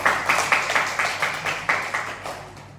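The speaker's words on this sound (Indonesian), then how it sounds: "Sekali lagi tepuk tangan untuk Nadia." Applause from a classroom of students, a steady run of clustered hand claps that rises in bursts and then fades out, heard alone without talk.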